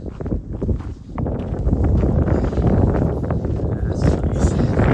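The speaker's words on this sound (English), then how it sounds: "that wind is cold" Cold morning wind on an outdoor trail run, a steady rough buffeting rush across the microphone that swells after the first second and stays loud, with faint footsteps and movement underneath.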